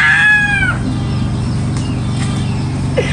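A hen clucks near a Vietnamese market scene, with a rooster-like call at the start that fades, then quieter fowl sounds over steady background noise.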